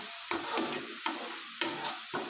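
Onions browning in a kadai for Balochi lagn gosht, a sizzling fry broken by several sharp stirring scrapes at irregular intervals, close and clear with no talk.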